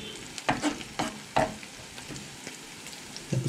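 Minced garlic frying in a pan, a few close bursts of stirring and sizzle separated by quieter gaps, with no one speaking.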